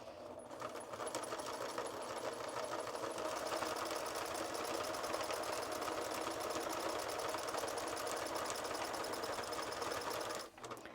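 A sewing machine quilting the fabric of a goose coat, its needle running in a fast, steady mechanical chatter for several seconds before stopping abruptly near the end, close and alone.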